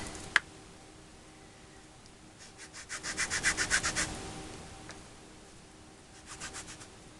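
Rubbing dried masking fluid off a watercolor journal page, a soft, rhythmic scrubbing of about a dozen quick strokes that builds and fades, with a later shorter burst, close and quiet over faint background hiss.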